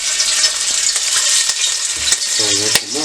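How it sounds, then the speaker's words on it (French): Rougail saucisse fries in a pot over a low flame, a dense, steady sizzle and crackle running throughout at close range, with a brief tonal sound rising over it near the end. "ça fait la friture là"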